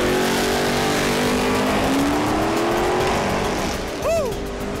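A drag race car in a Pinks All Out street-legal drag racing event, engine roaring loud and close as it accelerates down the strip, with a pitch sweep near the end as it launches past.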